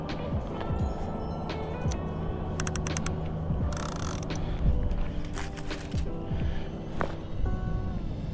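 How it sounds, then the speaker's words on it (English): A fishing reel with the spool open and clicker on gives sporadic ticking and clicking outdoors beside a shallow creek, mixed with steady background noise. "We're just going to lay it over here with the spool open and the clicker on."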